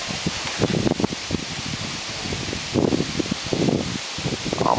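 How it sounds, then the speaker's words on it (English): Strong outdoor wind roars steadily across the microphone on a blustery day at a model aircraft test flight, with gusty rushing surges and no speech. "Very windy out here today."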